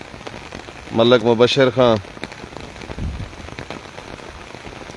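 Torrential downpour in Taunsa Sharif, Pakistan, a steady broadband hiss of rain on surfaces throughout, with a voice speaking briefly early on over it.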